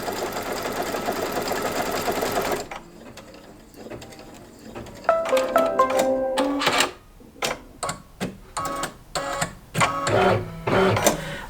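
An embroidery machine stitches applique centers for a Kimberbell topper, using an organ needle, Exquisite thread and a 70-weight bobbin. After a short lull it starts a rapid mechanical clatter, with bursts of stitching broken by brief pauses, close and steady, with no talk.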